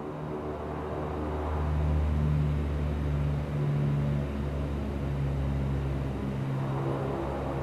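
Bombardier Q400 turboprop engines in the X-Plane 12 flight simulator, a steady droning hum and rumble that swells as power comes up, eases briefly, then holds at a moderate level.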